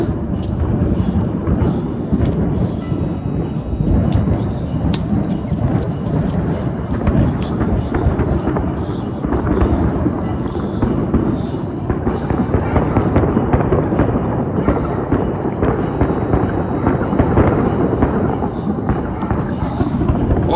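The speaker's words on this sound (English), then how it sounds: "fireworks." Fireworks explode on Christmas Eve in Las Vegas, a steady dense barrage of loud booms and crackles that fills the scene with rolling, overlapping blasts for the whole stretch.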